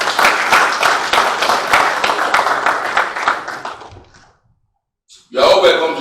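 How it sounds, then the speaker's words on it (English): Audience applause for a guest lecturer at a Nigerian legislative lecture, several seconds of dense clapping that fades to silence before a burst of further sound. "This is a round of applause for him."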